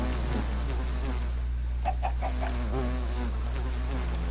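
A Minecraft chicken clucks in a short run of quick, mid-pitched clucks over a steady low hum and faint background sounds.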